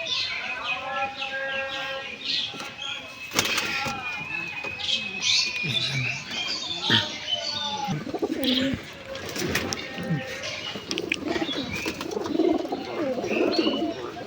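Pigeons coo repeatedly close by, soft throaty calls mixed with chirps, while people talk over them throughout.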